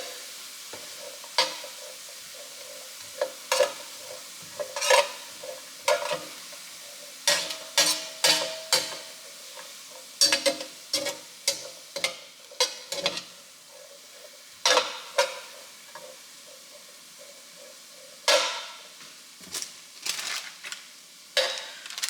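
Three garlic cloves cooking in a pan for shrimp and cheesy grits, with a faint sizzle under repeated close scraping and stirring strokes of a utensil against the pan.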